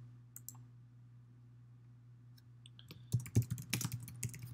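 Computer mouse clicks on an on-screen Enter Room button: a low hum and near silence with a few faint ticks, then a cluster of sharp, close clicks and clatter near the end.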